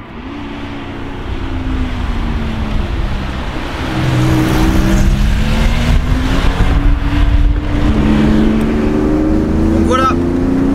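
Porsche 911 Carrera 2.7 RS Touring driving at low speed, its engine humming steadily from inside the car and swelling slightly as it pulls, with a faint voice underneath.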